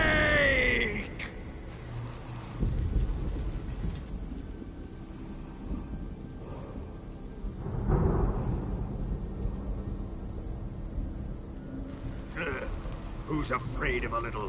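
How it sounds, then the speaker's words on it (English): Thunder in the video game Metal Gear Solid 3 Delta during a rainstorm: two low rumbling rolls over steady hissing rain, with a faint groan-like voice and game sounds around them. "Who's afraid of a little thunder?"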